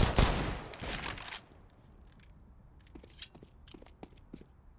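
Pistol fire in a Counter-Strike match on the Overpass map: a dense, loud volley of shots opens the clip for over a second, then scattered sharp shots and footsteps follow, fainter and spread out.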